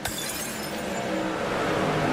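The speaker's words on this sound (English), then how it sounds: "Glass shatters just like old Stone Cold Steve Austin." A glass-shattering sound effect rings out as a dense, bright crash with tinkling fragments, sustained over a continuous roar for about two seconds.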